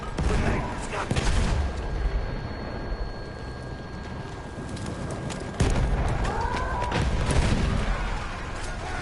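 Battlefield 1 combat with a dense wall of gunfire and explosion booms, including a grenade blast, loud and continuous with a sharp burst partway through, while shouted voices break in.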